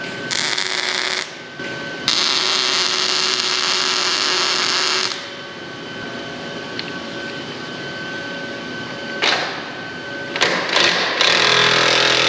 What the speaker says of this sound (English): I'm gonna weld here and onto the sleeve.